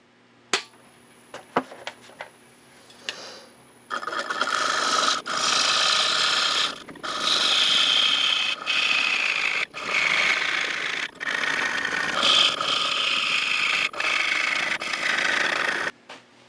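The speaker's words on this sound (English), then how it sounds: "I'm going back to a bowl gouge for these final cuts." Bowl gouge cutting wood on a lathe: after a few light taps and a quiet start, a loud, close, continuous shaving rasp runs in long passes broken by short pauses, while the motor hums underneath.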